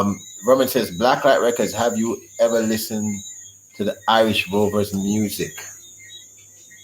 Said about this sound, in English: And the crickets are really loud tonight.